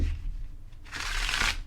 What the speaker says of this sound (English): Oh yeah, these shuffle great.